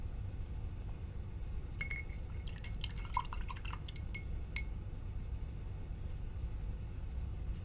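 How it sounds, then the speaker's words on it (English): Paintbrush swished and tapped in a water container during acrylic painting, giving a few seconds of light clinks, taps and small splashes against a quiet background, with no speech. "I'm going to wash my brush."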